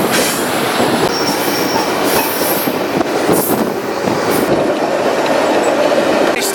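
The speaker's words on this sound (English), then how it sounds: "Major length train." A freight train about 1.5 miles long rolls past near Wells, Nevada, with a steady, loud rumble of wagons and intermittent wheel squeal running throughout.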